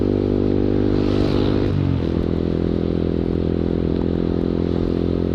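A motorcycle fitted with an AWR big volume long exhaust idles with a deep bassy rumble, revs up once, and settles back into a loud steady idle, close to the listener.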